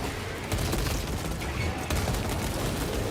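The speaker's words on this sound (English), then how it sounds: "Throwing frag grenade." A frag grenade thrown amid heavy gunfire in a high-difficulty combat video game, with dense continuous shooting and booming bursts filling the mix and a sharp jump in loudness about half a second in.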